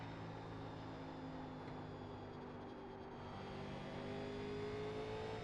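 A NASCAR stock car from 1987 running at Bristol in iRacing gives a steady, droning engine tone that holds near and even throughout, with a slight rise in pitch toward the end.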